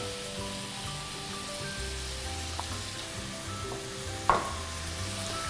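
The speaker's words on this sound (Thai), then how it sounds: "ตอนนี้ผมจะใส่เส้นนะครับ" Pasta noodles go into a hot pan of grilled-chicken pasta with herbs, giving a steady moderate sizzle and frying hiss throughout, with a couple of brief clinks and one sharp knock near the end.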